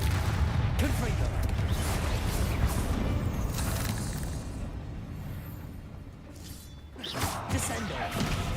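Fiery blasts from the Confringo spell in Hogwarts Legacy, a dense run of booming bursts and whooshes over rumbling game noise, fading briefly before another burst near the end.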